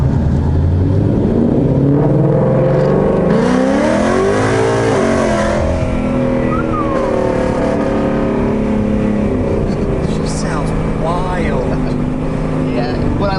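A powerful tuned 2019 Ford Mustang GT V8 engine with a Roush system rumbles and revs up while driving, its deep exhaust note rising and falling throughout, loud and close.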